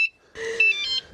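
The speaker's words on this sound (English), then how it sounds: "One other thing we added was a bicycle alarm" A bicycle alarm on a Radwagon 4 cargo e-bike gives a short beep, then a longer electronic tone as it arms, loud and close with no speech.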